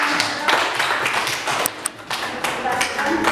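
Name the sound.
applause for a presenting student group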